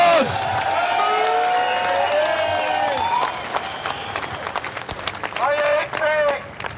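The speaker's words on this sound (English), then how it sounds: "Give him a round of applause." A crowd at an outdoor trade union rally claps and cheers, with whoops and shouts rising over the applause, which builds, swells and then breaks into scattered clapping and calls amid nearby voices.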